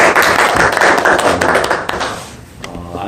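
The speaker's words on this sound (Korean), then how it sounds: "우리 박수 한번 합시다." A church congregation at a Thursday worship service claps together to welcome back a colleague, a burst of many hands that fades out after a couple of seconds, close and fairly loud.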